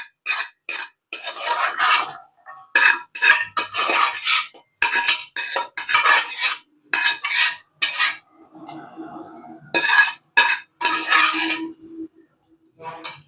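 Cooked food for Diwali butter mini thattai being moved into a wide basin, with near-continuous scraping, rasping and clinking of utensils against metal. The sound is loud and close and runs in uneven strokes with brief gaps.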